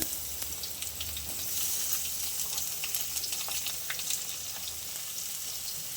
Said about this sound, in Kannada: ಈಗ ಕಟ್ ಮಾಡ್ಕೊಂಡಿರೋಂಥ ಈರುಳ್ಳಿ ಹಾಕೊಳ್ಳೋಣ